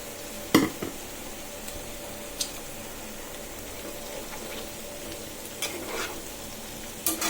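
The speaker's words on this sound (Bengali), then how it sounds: "এবার আমি এই যে হলুদ আর লবণ আর ধনিয়া গুঁড়া মেখে রাখা কাঁচা মিষ্টি কুমড়োগুলো দিয়ে দিচ্ছি।" Raw sweet pumpkin coated with turmeric, salt and coriander powder fries in a pan, giving a steady soft sizzle broken by a few sharp clinks and scrapes from stirring.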